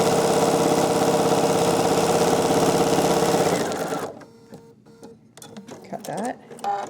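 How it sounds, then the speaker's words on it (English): A sewing machine stitches a straight row through a quilt-as-you-go block near the selvage, running steadily and close for about four seconds, then stops, and someone talks over faint handling noises. "I'm also going to do just one last row of stitching"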